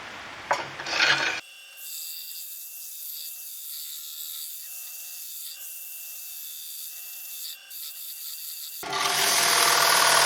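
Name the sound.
sanding a wooden bowl on a lathe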